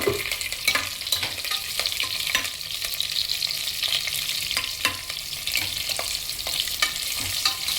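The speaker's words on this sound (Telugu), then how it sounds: "ఇప్పుడు ముందుగా కట్ చేసి ఉంచుకున్న ఒక పెద్ద ఉల్లిపాయ వేస్తున్నానండి." Thinly sliced large onion goes into hot oil for a sambar tempering and fries with a steady, close bright sizzle, broken by several sharp stirring scrapes, with no voices.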